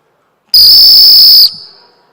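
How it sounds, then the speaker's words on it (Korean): One sharp, shrill whistle blast lasting about a second, loud and close, then silence, during a church sermon. "호루라기를 불면서 말씀하시면 더 효과가 있을 것입니다."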